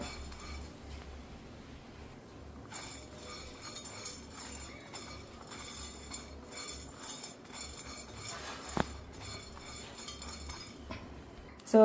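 Chana dal roasting dry in a metal pan, a steady scrape and clink of a spoon stirring the lentils, with a soft rattle of grains throughout and no voices.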